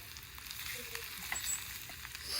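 Boiled, finely chopped potato frying in a pan with turmeric for dosa bhaji, giving a steady soft sizzle with faint scraping stirs throughout, no voices.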